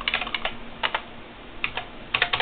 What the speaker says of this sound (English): I gotta beat up the keyboard until I get my G and H keys